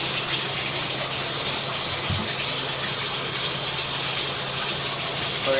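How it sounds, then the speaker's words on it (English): Bathtub tap turned on, water gushing steadily into the tub and draining away, a constant close rush with no voices. "We're going to go and turn the tub water on."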